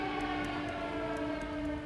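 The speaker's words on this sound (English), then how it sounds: "a tornado alert siren rings out for Jasper County and Joplin" A tornado alert siren in Joplin, Jasper County, Missouri sounds a steady, faint, distant wail holding one sustained tone throughout, with a faint periodic clicking overhead.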